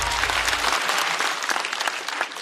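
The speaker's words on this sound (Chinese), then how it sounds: "再次掌声送给基业。" A studio audience at a stand-up comedy show claps in loud, sustained applause that fills the whole moment without a break.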